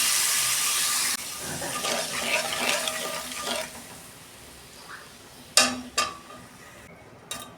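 Water pours into an oiled pan while a fish curry is being cooked, a rushing splash that fades after a few seconds, followed by a few sharp clinks of utensils.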